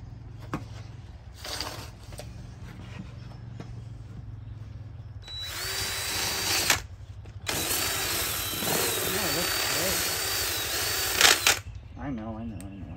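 Power sander buzzing against a horse's hoof during farrier trimming, a steady whine in long close bursts broken by brief pauses, with people talking now and then.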